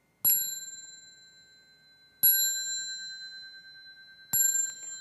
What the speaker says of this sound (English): I'm going to start with 3 chimes and end with 1.